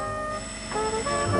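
Doorbell in a Romanian radio play, a short electric ringing tone that sounds twice within about a second, steady and fairly clear.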